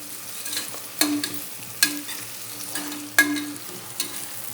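Ingredients for yellow pumpkin kootu sautéing in a pan, a steady soft sizzle broken by several sharp scrapes and clinks of a stirring spoon, close and moderately loud, with no talking.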